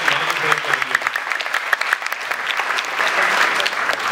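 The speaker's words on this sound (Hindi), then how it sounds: "इस पे बहुत तालियां होनी चाहिए" Energetic audience applause, sharp close claps over a wash of crowd clapping, with a voice briefly heard at the start before the clapping swells again.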